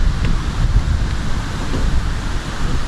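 The waterfall at Minoh Park in Osaka pours in a constant broadband rush, loud and close, with some wind buffeting the microphone.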